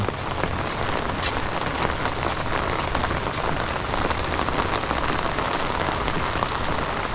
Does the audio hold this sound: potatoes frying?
no